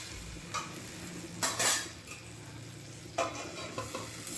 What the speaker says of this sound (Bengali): সজনে পাতাগুলোকে মিক্স করে নিচ্ছি। এমনভাবে মিক্স করবেন যেন সমস্ত লবণটা সজনে পাতার সাথে মিশে যায়।